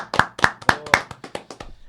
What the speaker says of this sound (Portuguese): Salva de palmas pra ele.